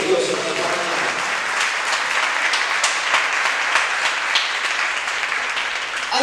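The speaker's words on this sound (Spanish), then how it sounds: "Dale un fuerte aplauso a Dios en esta mañana." Sustained congregational applause at a Sunday-morning Spanish sermon, a loud, dense wash of many hands clapping at an even level from start to finish.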